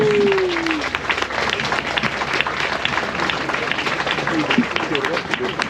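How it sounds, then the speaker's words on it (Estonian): Audience applause at an end-of-season party at a surf bar, dense sustained clapping and crowd noise filling the whole stretch, loud and close, with a brief voice at the start. "suur aplaus"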